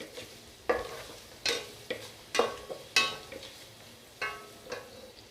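Onions sautéing in a pan at low heat, a soft sizzle punctuated by repeated scraping stirs of a spatula every half second or so, close and without talk.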